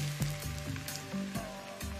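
Pancake batter poured from a ladle into a hot pan gives a soft, even sizzle, with music playing in the background.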